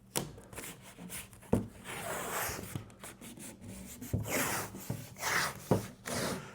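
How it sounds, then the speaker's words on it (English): Painter's tape is pulled and pressed onto the window of an RV entry door, giving close scratchy rubbing and tearing sounds with a few sharp taps and crinkles throughout. "get some painter's tape and tape your window in"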